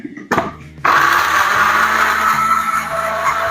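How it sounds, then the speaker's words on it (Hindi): A blender jar grinds garlic with about a cup of water, starting with a few brief clunks and then settling into a loud, steady motor whir with a churning, liquid quality that continues without pause. "ग्राइंडर ले या ब्लेंडर जार, लहसुन डाल के 1 कप के करीब पानी डालना है"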